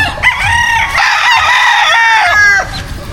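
A white kelso gamefowl rooster crows loudly and close by, one long harmonic call lasting nearly three seconds, with no voices over it.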